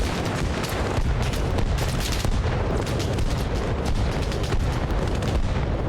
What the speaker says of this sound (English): We're going to drop a large mortar base on the town.